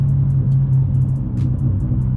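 Tuned 10th-generation Honda Accord 1.5T on an aggressive tune, its exhaust burbling and rumbling steadily on throttle lift-off, a continuous low, loud engine drone with faint crackles above it.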